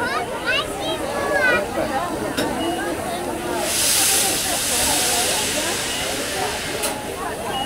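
A steam locomotive vents a broad, steady hiss of steam lasting about two seconds midway through, heard under ongoing Danish conversation.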